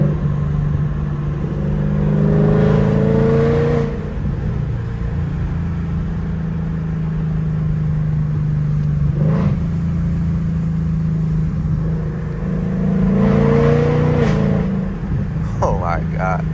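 A Ford S550 Mustang with an aftermarket exhaust roars under hard acceleration using the paddle shifters, a deep throaty drone that swells in two loud pulls with a brief lull between, while excited voices talk over it.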